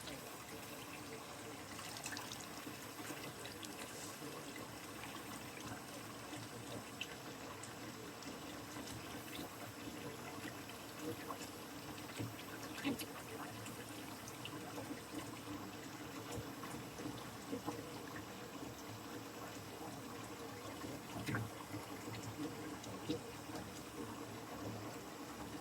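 Running water from a tap rinses acid-dyed wool to wash out the last traces of dye, a steady, continuous wash of flow and splashing that holds the same level throughout without pause.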